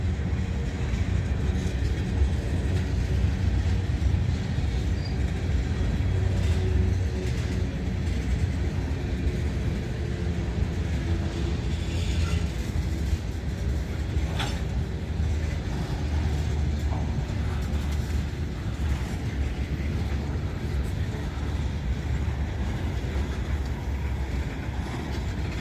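Freight train of tank cars, some carrying corrosive phosphoric acid, rolling past in a steady continuous low rumble with wind buffeting the microphone, loud and close throughout with no talk.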